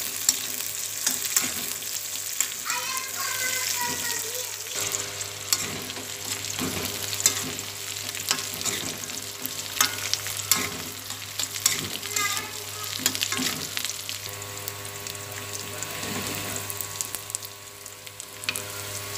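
Sautéing in a frying pan with lemongrass and bay leaves, a continuous sizzle with repeated spatula scrapes and stirring knocks, close and steady under a low hum.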